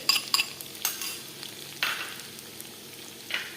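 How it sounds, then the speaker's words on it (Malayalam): Green chillies, onion, shallots, ginger and garlic sauté in a hot pan with a crackling sizzle, while a spoon scrapes and clinks against the metal in quick bursts and then in sparser strokes, close and moderately loud. "10 ചുവന്നുള്ളി ചെറുതാക്കി അരിഞ്ഞത്. ഇതൊക്കെ ഒന്ന് വഴറ്റാം."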